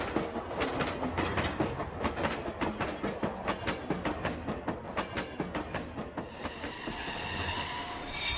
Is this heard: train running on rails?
yes